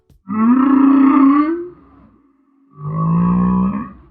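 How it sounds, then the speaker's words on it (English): A humpback whale sings two long, loud tonal calls with rich harmonics, the first sliding upward before fading, then a pause and a second steady moaning note. "This is an animated map of a humpback whale's song."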